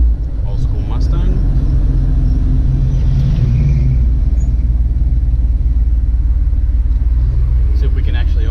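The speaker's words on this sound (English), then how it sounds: "Old school Mustang." Old school Ford Mustang with a deep, loud engine rumble heard close by from a passing car on a busy evening road, a continuous low growl that carries steadily throughout with faint traffic around it.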